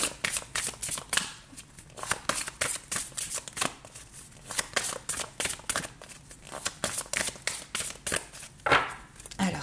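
Tarot cards being shuffled for a reading, a rapid series of crisp riffling and slapping bursts in an uneven rhythm, close and fairly loud, with a voice talking at times beneath them.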